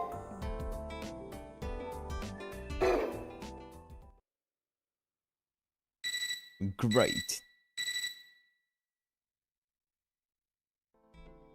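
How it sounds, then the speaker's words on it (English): Alarm-clock-like electronic ringing from the video game Fate/Extra CCC: a few short bursts of bright ringing around the middle, separated by silence, after a stretch of game music and a spoken word. "I woke up to a ringing sound, like an alarm clock."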